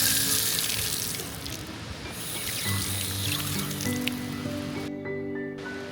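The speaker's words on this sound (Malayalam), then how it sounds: "ഇവിടെ ഒരു പൈപ്പ് വെള്ളം ലീക്കായിക്കൊണ്ടിരിക്കുകയാണ്." Water leaking from a pipe at Neyyar Dam, a continuous splashing rush like a running tap, steady and fairly near, with a faint hum appearing partway through.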